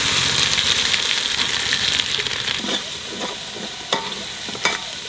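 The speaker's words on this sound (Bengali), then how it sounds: "আদা রসুনটা একটু ভাজলাম" Ginger garlic paste frying with onions and Kashmiri chili powder in a pan for chicken dum biryani, a loud dense sizzle and hiss that eases midway, with a few sharp spatula knocks near the end.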